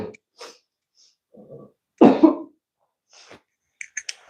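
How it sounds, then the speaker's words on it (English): Several separate coughs from one person off camera, irregularly spaced, with one loud, harsh burst in the middle and short, sharper hacks toward the end, otherwise quiet. "now I will cough repeatedly off camera"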